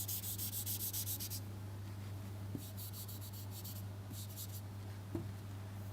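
A lecture board is erased in repeated bursts of rhythmic rubbing strokes, a run at the start, then two more clusters, close and clear over a steady low electrical hum, with no speech.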